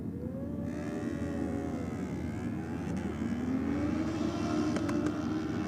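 Drag racing motorcycles, a Suzuki GSX-R 1000 and a 320 cc Yamaha YZF R3, roar down the strip. A steady engine drone climbs gradually in pitch, heard from a distance with no talk.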